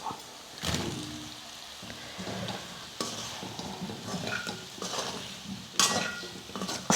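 Elephant foot yam pieces are stirred and sautéed with masala in a pan over a low flame, giving a soft sizzle with repeated scraping strokes of a spoon and occasional clinks, close up and without talk.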